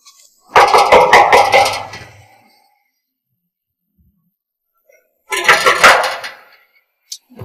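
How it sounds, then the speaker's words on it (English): Knocking on a door, heard as two loud bursts of rapid, repeated knocks separated by a few seconds of silence, with one faint tap at the end. "My friend, knock that door."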